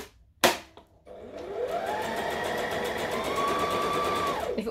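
A sewing machine stitches fabric for a Simplicity 1801 pattern: one sharp tap, then the motor spins up into a steady rapid stitching whir for several seconds before slowing to a stop.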